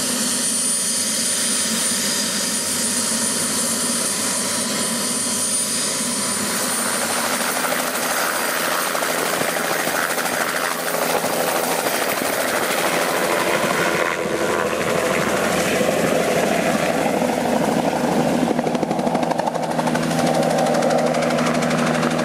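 Helicopter engine and rotor roar heard from inside the cabin, a loud continuous whine and droning hum with steady tonal bands that swell and shift slightly, with no speech over it.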